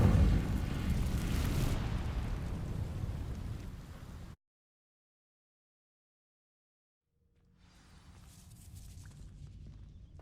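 The Incendio fire spell ignites dry vines in Hogwarts Legacy, a loud rushing roar of flame that cuts off abruptly into silence, then a softer crackling burn fades back in.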